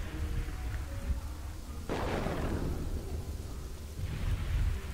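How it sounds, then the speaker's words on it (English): Rain in the Kingdoms and Castles city-building game, a steady wash of falling rain with a rolling rumble of thunder building up partway through. "Why are you raining? You can ruin my crops."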